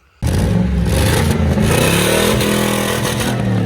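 A 434 cubic inch engine bursts to life and revs loudly and continuously with a rough, clattering roar, close by with no talk.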